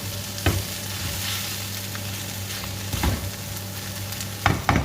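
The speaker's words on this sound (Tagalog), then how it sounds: "Fry muna natin siya." A sandwich fries in a pan with a steady, close sizzle, broken by a few sharp clinks and scrapes of a utensil.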